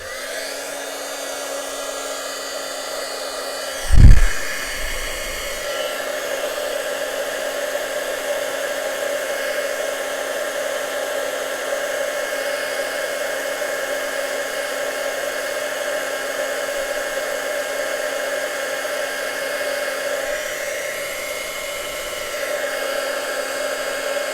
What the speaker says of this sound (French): je vais fixer ma poudre avec le pistolet. Ça va faire un petit peu de bruit.